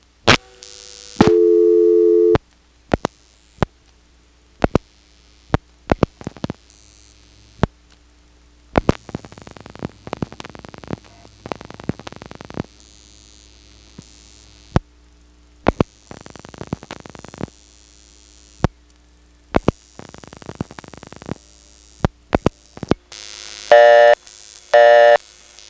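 Step-by-step telephone exchange switching in 1977 as seven digits are dialed, with sharp relay clicks and clatters in irregular bursts over a low hum, then a loud tone at the end.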